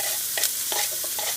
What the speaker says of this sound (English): So I just put in the onion